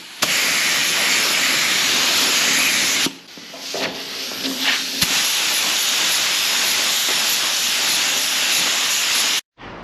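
Spray gun spraying red paint on an ERF EC11 truck part, a loud steady hiss broken by a short pause with handling noises, then hissing again until a brief cutoff near the end.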